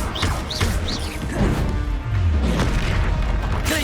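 Spell impacts from Stupefy, Glacius and Expelliarmus in a Hogwarts Legacy fight hit in quick succession as loud booms and crashes, with short whooshing casts layered over a dense, continuous rumble of combat.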